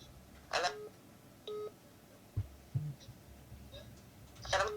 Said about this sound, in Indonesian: kita angkat telepon berikutnya